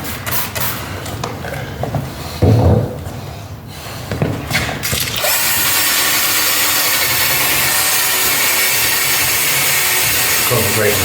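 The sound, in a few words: sanding headlight lens with 2000 grit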